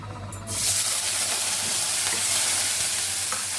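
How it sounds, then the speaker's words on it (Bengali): Onions dropped into hot mustard oil set off a sudden loud, close sizzle half a second in. The sizzle then stays as a steady, bright frying hiss with faint stirring clicks. "আর পেঁয়াজ দিয়ে দিচ্ছি সরিষার তেল দিচ্ছি"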